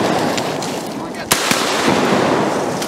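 Two sharp shotgun blasts crack close together during a duck hunt in Arkansas in bitterly cold, minus fifteen degree weather, over a dense, noisy outdoor background.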